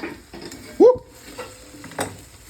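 Ingredients for chicken gravy fry in oil in a pan, a soft sizzle under a few scraping stirs and one louder clank of utensil against the pan.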